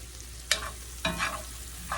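Bacon crumbles being stirred into a burger mixture for cheeseburger sliders, with three distinct scraping spoon strokes against the pan over a low background, close and fairly loud.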